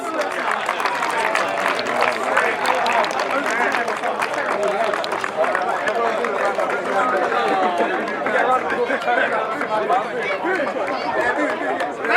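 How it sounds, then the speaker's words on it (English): Spectators at a youth football cup final award ceremony give a sustained round of applause for the match officials, the clapping blended into continuous crowd chatter and voices throughout. "Next up, we have a round of applause for our match officials, Kasper, Dennis, Hassan and John."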